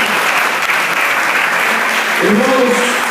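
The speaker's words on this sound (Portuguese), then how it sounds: "Bata as palmas para Jesus" A church congregation claps hands together during a Sunday family service, a dense, loud, continuous wash of clapping, with a few voices rising near the end.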